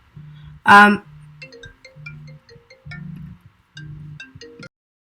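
An incoming-call ringtone on a phone plays a repeating melody of short tonal notes over a low steady hum, with one loud brief burst near the start, fairly close and clear.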